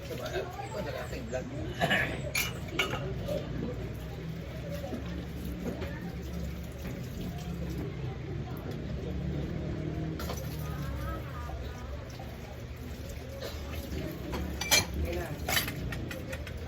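Running water splashes steadily with occasional clinks of cooking pots and dishes, a busy close-up kitchen wash with no talking.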